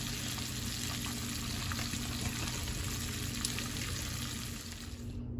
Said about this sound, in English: I fried shrimp, I fried fish.